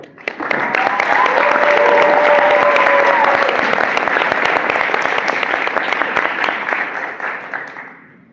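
Graduation audience applauding a commencement speaker onto the stage, a loud, dense crowd clapping that starts suddenly, holds steady for several seconds and then tapers away.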